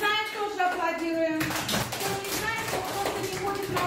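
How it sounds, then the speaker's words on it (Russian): Children applauding in a school classroom, a burst of clapping that starts suddenly after a voice and continues as a loose, uneven patter of many hands. "Поаплодируйте, кто знает."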